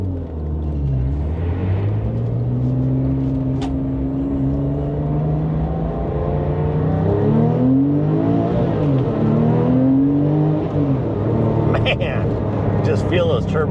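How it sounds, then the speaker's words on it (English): A 2011 Porsche 911 GT2 RS with a turbo engine accelerates hard, its loud engine note climbing and dropping through gear changes with a rumbling tone up close, while someone talks over it. "Man, just feel those turbos kick in."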